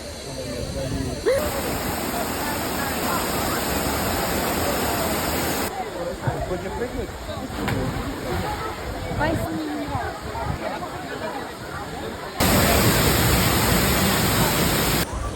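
A steady, loud roar of waterfalls fills the whole clip, with a person speaking briefly over it.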